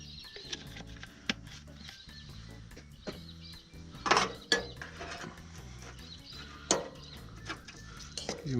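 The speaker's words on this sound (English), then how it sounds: "Give them a stir." Egg and cheese are stirred in a bowl at a camp kitchen, giving soft scraping and clinking of a utensil against the bowl. Sharper clacks come through intermittently over a quiet, low background.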